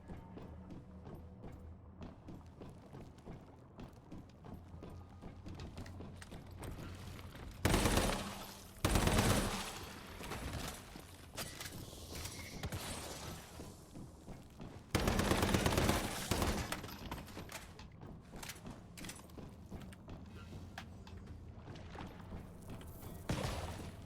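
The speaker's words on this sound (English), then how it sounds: "Something shooting at me?" Enemies fire guns in the video game Once Human: two loud bursts of rapid shots stand out against quieter, scattered gunfire and background game noise.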